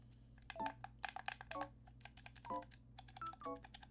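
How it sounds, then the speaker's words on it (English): Soft clicky presses from a Pro-style game controller, a scattered run of light, sharp taps in quick irregular bursts, fairly close and faint against a low background hum. "you can hear the clicky sounds, but it's not as loud as the other Pro controller I have."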